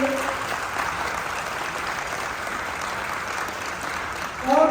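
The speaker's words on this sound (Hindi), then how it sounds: "तो जोरदार तालियां चाहूंगा चेयरमैन ली जिनयोंग के लिए" A hall audience gives a loud, sustained round of applause for Chairman Li Jinyong at a company event in Lucknow, steady dense clapping throughout with a voice rising at the very end.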